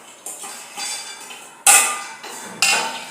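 Cashews stirred in a metal pan give a series of close, bright clanks and scrapes as a utensil strikes the pan, with three or four distinct louder knocks.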